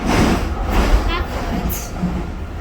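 A DLR light rail train running near Canary Wharf gives a steady low rumble with faint wheel squeal and clatter, continuous throughout, with some speech-like sound mixed in.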